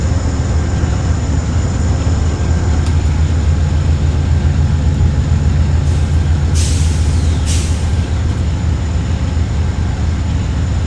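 Steady, even rumble of an Amtrak GE P40DC diesel locomotive idling after its head end power is shut off in Train Simulator, a constant low drone with a few brief hissing bursts.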